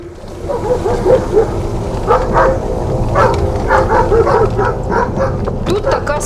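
Service dogs bark and yip repeatedly near a winter wheat field during harvest, sounding close and fairly loud, mixed with people talking and general outdoor commotion.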